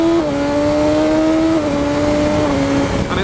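A BMW S1000XR motorcycle engine with stock exhaust idles and revs with a steady humming drone and a couple of pitch steps, close by and fairly loud.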